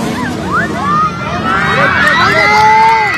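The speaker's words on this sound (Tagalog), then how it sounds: "Oh, sigawan pag dumaan si Zaira" A crowd shouts and cheers loudly and steadily as a runner named Zyrah Paco passes by during a race, with children's high-pitched shouts mixed into the continuous roar.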